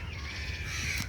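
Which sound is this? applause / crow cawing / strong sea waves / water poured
crow cawing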